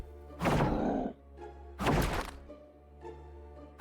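Ranged units attack in the fantasy strategy game Master of Magic Remake, producing two loud, dull thunking impacts with softer knocks between them.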